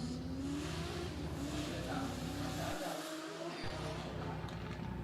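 A drift car on a track at a Borneo drift series event, engine roaring steadily as it accelerates through a handbrake drift, with faint tire squeal mixed into the continuous loud drone and a brief dip in the low rumble midway.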